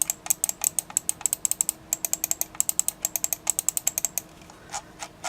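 Rapid, crisp clicks from the buttons of a Microsoft Wireless Mobile 1850 mouse, several dozen in a quick steady rhythm, close up and alone, slowing to a few scattered clicks at the end.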